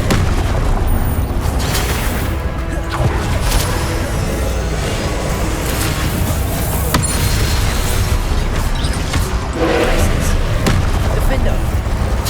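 Repeated blasting-spell explosions from the Hogwarts Legacy video game, dense booming impacts and crackling bursts filling the whole stretch at steady loud level, with a voice speaking over the combat.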